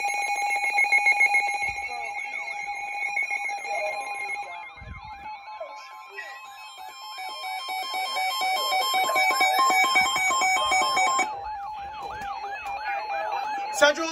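An Emergency Alert System tornado warning broadcast sounds its loud alarm tone, a steady two-pitch electronic blare, joined by warbling siren-like tones and shifting electronic signals over about fourteen seconds, close and continuous with brief breaks.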